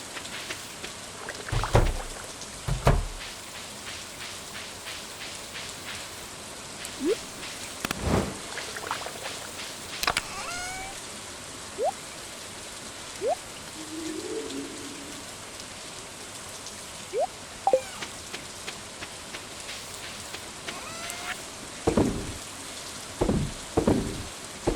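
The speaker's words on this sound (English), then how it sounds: "Day 4 of rain." Steady rain hisses across a Stardew Valley farm, a dense wash of falling drops broken by scattered louder splats and a few brief sharp knocks, with no voices.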